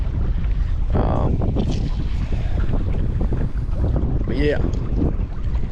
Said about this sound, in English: The wind is kicking. Y'all can probably hear that. I bet the audio is crap.